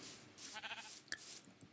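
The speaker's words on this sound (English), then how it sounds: "Some sheep I see there in the back." A sheep in Minecraft bleats softly a couple of times, faint short wavering calls set against a quiet background.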